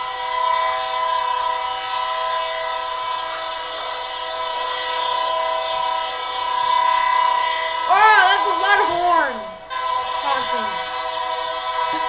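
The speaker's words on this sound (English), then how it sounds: "Sounds like an interesting train." A train rumbles past with a sustained multi-tone horn sounding throughout, rising into a brief wavering blast before cutting off, with low rail noise beneath.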